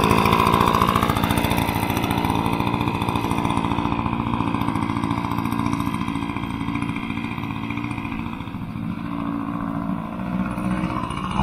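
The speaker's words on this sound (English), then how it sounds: "so that I can start mowing" A Honda HRC-216 lawn mower cuts through tall grass, its engine droning loud and steady from start to finish, the pitch dipping slightly under load partway through.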